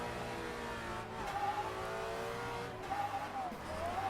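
Engine of a car in a racing video game, held at full throttle while drifting with no handbrake, revs rising and falling in steady harmonic sweeps, with faint tire squeal and a continuous loud drone throughout.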